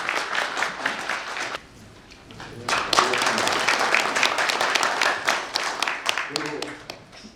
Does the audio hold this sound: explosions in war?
no